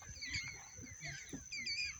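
A flock of parrots arriving on an island in the Andamans, with faint, scattered high squawks and chatter carried from a distance over a low rumble of background noise.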